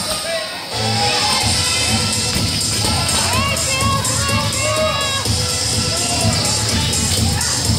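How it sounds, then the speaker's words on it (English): Crowd cheering and shouting at a CrossFit competition WOD with deadlifts and wall walks, a dense, loud, steady roar of voices and whoops that swells after a brief quieter start and keeps going throughout. "Let's keep cheering them on."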